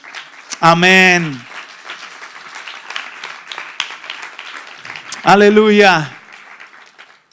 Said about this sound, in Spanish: Denle un aplauso al Señor si lo cree.